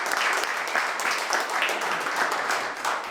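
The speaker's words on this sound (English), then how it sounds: "Please give yourselves a round of applause" Steady applause from an audience at a city council campaign kick-off, a dense, even patter of many hands clapping throughout at a moderate level.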